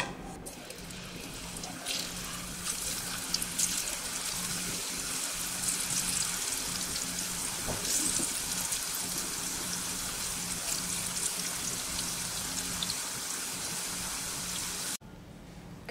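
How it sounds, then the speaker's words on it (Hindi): Raw banana chips frying in hot oil, giving a continuous, even bubbling hiss up close that stays steady throughout and cuts off at the end, with no talk. "इसी तरह हम और सभी चिप्स को फ्राई कर लेंगे"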